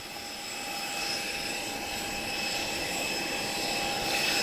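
Steady, continuous aircraft engine drone of a Spitfire at the Portugal Air Summit airshow, a distant sustained roar that swells slightly louder toward the end, heard alone without talk.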